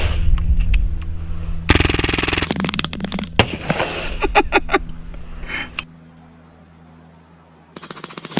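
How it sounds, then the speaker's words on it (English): A Hatsan Blitz .25 PCP airgun empties its magazine on full auto outdoors. A quick run of sharp shots is followed by a dense, rapid burst, then scattered cracks before the firing stops. "I'm gonna go ahead and dump a mag, and we can see exactly what the full auto is gonna be doing at 150 plus yards"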